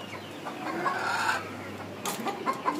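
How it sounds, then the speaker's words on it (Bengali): A tiger rooster and a flock of chickens cluck close by in a coop, with short irregular calls and a slightly louder burst near the end, over a faint low background hum. "একটা মোরগ দেখতে পাচ্ছেন, এটা টাইগার মোরগ।"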